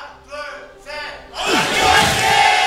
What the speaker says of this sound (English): nice cheer for Anarchy